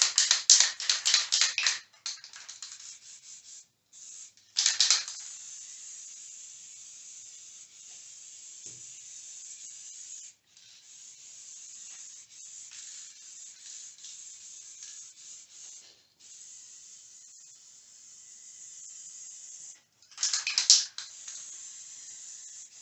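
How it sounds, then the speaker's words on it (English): Adhesion promoter sprayed from an aerosol can around the doors and pinstripe area of a Ford Ranger before black paint, a sustained close hiss broken by short pauses and louder rattling bursts at the start, near five seconds and near twenty seconds. "We're going to spray it around the doors and around the pinstripe area."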